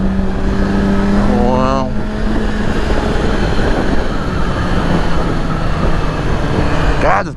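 A motorcycle engine runs loud and steady on a highway with a constant wind-blasted drone, a rising whine toward the end, and a brief spoken exclamation early on.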